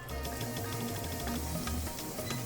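A small onion sizzles in about three tablespoons of hot oil for a red spinach and chicken dish, with a steady crackling fry and faint stirring underneath.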